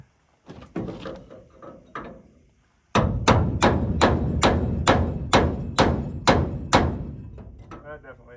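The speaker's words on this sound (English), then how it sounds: "Hammer time." A hammer strikes metal inside a combine harvester on a farm, starting with a few scattered knocks, then about a dozen loud, evenly paced heavy blows that ring out close up.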